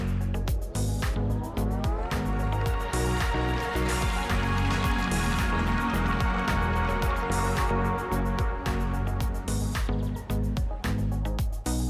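A loud, continuous musical melody with a heavy bass line and rhythmic beats plays from a new Fiat 500 Electric's pedestrian alert speaker, with no talking.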